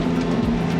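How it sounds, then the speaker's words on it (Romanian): Hybrid Porsche 918 Spyder's combustion engine firing up, a loud, close, steady low rumble with a droning hum, brief and alone with no voices. "În momentul în care motorul termic pornește, zgomotul pe care îl produce"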